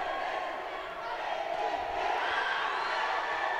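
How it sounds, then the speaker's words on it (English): Boxing crowd at a flyweight quarterfinal bout between the Philippines and Indonesia at the 2019 SEA Games, cheering wildly in a loud, continuous roar that swells toward the end. "The crowd going crazy."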